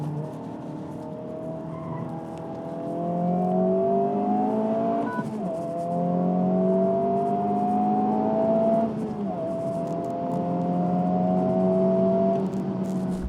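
A 2023 Honda Civic Type R FL5 lapping a smooth race track, its engine revving up through the gears in long rising sweeps with brief shift dips, loud and continuous from inside the car, no talking.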